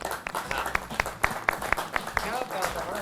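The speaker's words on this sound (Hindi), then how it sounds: "जोरदार तालियां हो जाए।" Studio audience at a live yoga session claps in a short burst of distinct, fairly regular hand claps, some close, with faint background voices.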